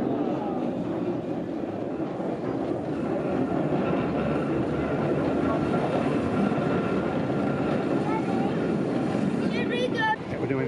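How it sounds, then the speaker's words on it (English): A railway engine on the Keighley and Worth Valley Railway, uncoupled and moving to the front of the train, rumbles nearby with a steady low drone, some wind noise, and brief chirping near the end. "The engine had been uncoupled and was being taken to what now became the front of the train."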